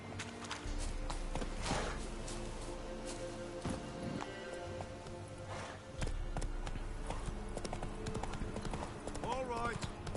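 Hooves clip-clop rhythmically as a horse moves in The Witcher: Wild Hunt, the steady beat running under game music and ambience while someone talks over it.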